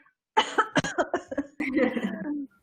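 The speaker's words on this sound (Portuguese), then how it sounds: "Dá uma tossidinha." A person coughs in a quick burst of several hacking coughs, then a longer, rougher cough, close and loud.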